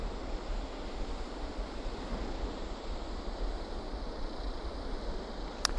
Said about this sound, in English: Yeah, I love the sound of the rushing water.